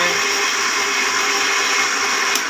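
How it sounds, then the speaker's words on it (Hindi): An electric blender grinds a yogurt and gram flour mixture for Punjabi kadhi, a loud, steady whirring roar with a low pulsing undertone, continuous throughout and with no speech. "ये थोड़ी देर के लिए हमने इसको जो है वो ग्राइंड करना है"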